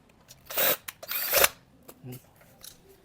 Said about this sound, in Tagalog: Tsaka natin siya i-screw.